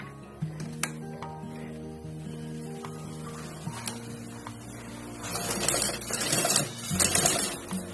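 A sewing machine stitches fabric for a small ladies' designer party bag, running a steady mechanical hum with a light, even rhythm and a busier rattling burst toward the end. No one talks.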